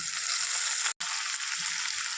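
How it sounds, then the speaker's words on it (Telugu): Brief, steady sizzle of ginger garlic paste frying in hot oil, with a momentary cut in the middle. "కొంచెం అల్లం వెల్లుల్లి పేస్ట్ కూడా పోపులో వేసుకోవాలి"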